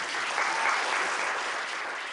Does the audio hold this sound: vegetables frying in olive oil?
no